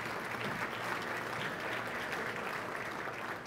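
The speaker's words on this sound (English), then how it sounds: "a round of applause for Melendez Entertainment and Nowcast SA" A room full of people applauding at a congressional district address, steady dense clapping held at an even level throughout, close and fairly loud.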